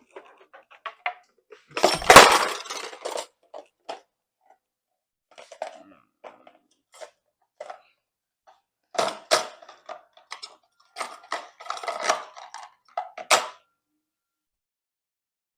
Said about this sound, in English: I don't have a whisk, so I'm gonna have to steal one from my hand mixer.